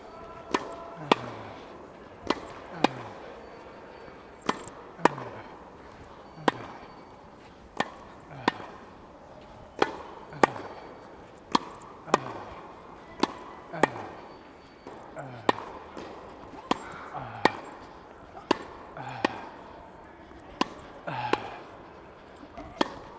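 Tennis volleys struck with a Solinco Whiteout 18x20 XTD racket: a steady run of sharp, crisp impact cracks about every second, close and loud, with faint background voices between hits.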